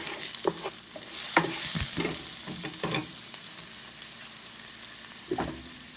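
Cabbage fries in a pan with a bright sizzle, and a spoon scrapes through it in several distinct stirs, close and fairly loud, with no talking.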